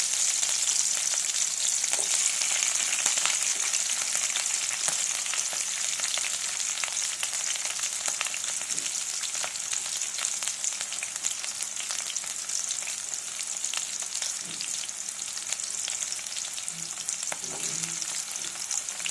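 Steady, dense sizzle of chopped onions frying in hot tempering oil, with a few faint clinks and scrapes of stirring; no voices.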